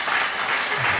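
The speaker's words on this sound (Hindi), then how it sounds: "मुझे लगा यहां ताली बजेगी।" Audience applause in a church gathering, steady dense clapping from a crowd, fairly loud and continuous throughout, with no talk over it.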